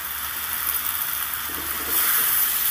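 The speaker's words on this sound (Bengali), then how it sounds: "কুঁদরিটা মোটামুটি ভাজা হয়ে গেছে" Ivy gourd (kundru) frying in a covered pan: a steady, close, even sizzle with soft crackle that swells a little louder near the end, with no talking.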